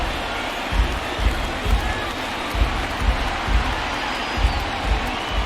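Video game crowd of over 36,000 at a Braves vs Pirates baseball game in MLB The Show 20, rising to their feet; a steady broad roar with periodic rhythmic thumps, like clapping or stomping, beneath it.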